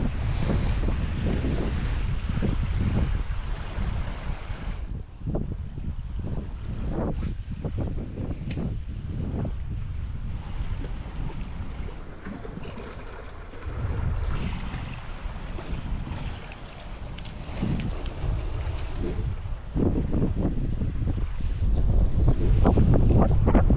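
Squally wind on a remote northern Australian beach, loud and continuous with heavy microphone buffeting and waves washing in behind it. The roar swells and eases in gusts for over twenty seconds, with no voices.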